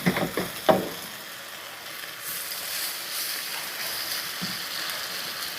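Pork chops laid into a pan of hot oil, a few soft clunks at first and then a steady broad sizzle holding at moderate loudness.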